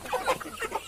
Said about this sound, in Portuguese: Aqui as galinhas que vieram da granja.